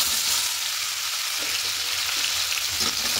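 Plums fry in spiced oil, a loud steady sizzle under light stirring scrapes, with no voices.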